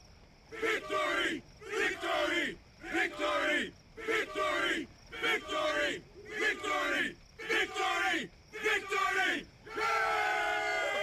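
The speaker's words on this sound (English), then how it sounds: "Love how they cheer in this game." A video game crowd in Final Fantasy X chants victory in repeated rhythmic bursts, about ten loud shouted cheers spaced evenly, ending in a sustained roar.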